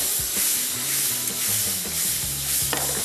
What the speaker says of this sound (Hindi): अब इसमें शामिल कर दूंगा मैं काली मिर्च और इसको थोड़ा सा और मिक्स किया।